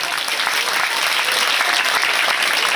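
Loud, dense applause from a large crowd at a Haryana political rally, steady clapping throughout with no pauses.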